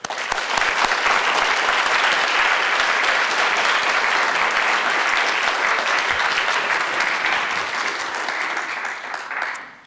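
Sustained, loud applause from a cathedral audience in Seattle welcoming a lecturer, steady dense clapping that holds for about ten seconds before tapering off at the end.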